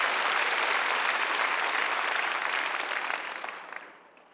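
A church congregation at a Sunday worship service claps in sustained applause, loud and dense, then fades away over the last second.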